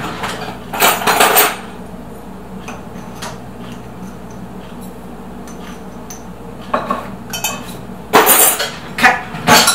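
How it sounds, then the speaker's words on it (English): Dry baking ingredients, including baking soda and salt, whisked together in a bowl for chocolate chip cookies, giving bursts of clinking and scraping in a kitchen, with a quieter stretch in between and a louder burst near the end. "Whisk it together."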